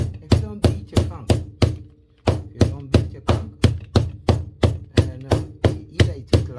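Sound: beating conch in a clean plastic bag

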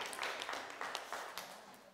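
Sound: audience applause

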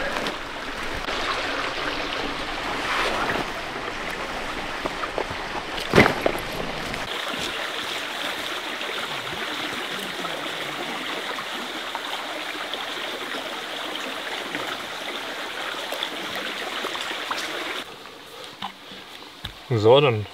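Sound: stream running water

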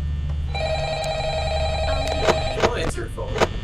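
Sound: telephone ringing in Five Nights at Freddy's video game

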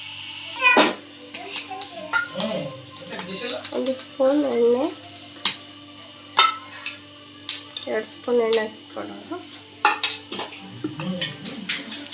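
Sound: mustard seeds and cumin sizzling in oil

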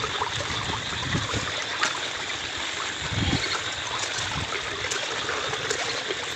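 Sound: floodwater rushing into pond

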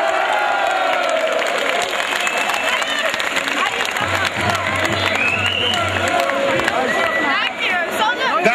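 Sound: crowd applauding the Trommelaars supporters group

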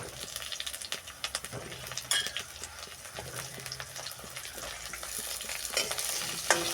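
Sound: potatoes frying and being stirred in a pan with onions

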